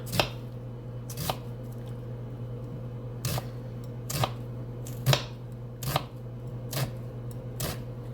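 A big onion chopped with a knife on a board: eight or so crisp, evenly spaced thunks over a steady background hum, close and clear, with no talk.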